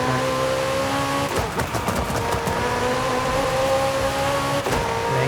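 A McLaren 765LT in Forza Horizon 5 holds a steady high engine drone, then revs hard with a burst of crackling exhaust pops, settles, and surges again near the end; no talking.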